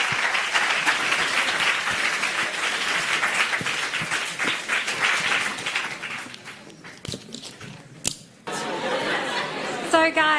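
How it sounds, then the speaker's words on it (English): An audience at a surgery careers event applauds a speaker, dense sustained clapping with light laughter that tapers off, followed by a brief renewed burst and a voice addressing the crowd. "can we give a big round of applause to Dr."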